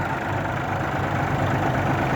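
An ISEKI Land Hope 205 tractor fitted with a rotary tiller idles close by, a steady, unbroken low engine rumble with no other sounds.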